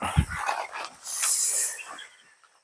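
Dogs close around a tent at night during solo camping under a street light, giving a short snort or huff and breathing sounds, followed by a brief rustle as if scratching at plastic.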